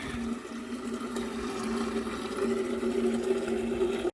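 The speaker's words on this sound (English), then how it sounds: "Take my pot, put it in here, fill it up with water." A pot filling with water from a tap in an RV-style sink setup, a steady rushing pour with a gently rising tone, close and continuous for about four seconds before stopping abruptly.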